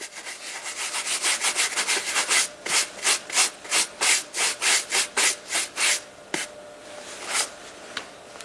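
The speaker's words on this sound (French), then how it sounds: "Terminez comme toujours en frottant avec des mouvements circulaires avec une brosse à poils souple." Soft-bristle brush rubbing Birkenstock leather in circles, a rhythmic series of close, scratchy strokes about two per second, evenly spaced, then thinning out into a few sparse rubs near the end.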